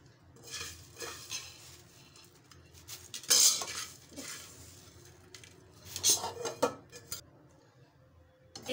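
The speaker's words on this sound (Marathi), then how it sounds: "एक मिनिटभर हे असं परतून घेऊया। अगदी मंद आचेवर 1 मिनिटभर पोहे परतून घेतलेले आहे।" Thin poha roasted in a kadai over low heat is stirred with a metal spoon, giving irregular scraping and clinking of utensil against the pan in soft bursts, a few sharper knocks standing out, with no speech.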